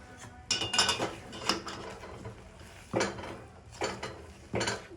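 Ragi kali, a thick finger millet porridge, being stirred in a pot: a ladle scrapes and knocks against the vessel in uneven bursts, close and fairly quiet, with pauses between strokes.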